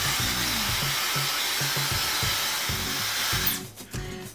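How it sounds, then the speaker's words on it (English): A Dyson Supersonic hair dryer runs with a steady airy whir and low motor hum, then cuts off abruptly near the end, leaving brief handling sounds. "It's a softer noise than other hairdryers, not completely silent"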